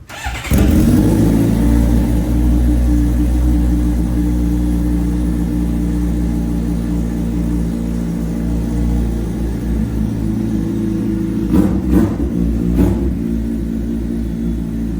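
Heavyweight superbike fired up in a showroom, a sharp start followed by a loud, steady deep idle that stays close, with a couple of short throttle blips near the end.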